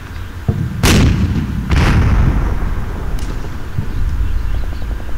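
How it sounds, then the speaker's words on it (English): Heavy machine gun fire from a blockhouse in the video game Combat Mission: Shock Force, heard as loud booming shots, two big bursts early on, then fainter reports over a rumbling battlefield background. "That heavy machine gun that's firing at me from that blockhouse in the edge of the screen on the right"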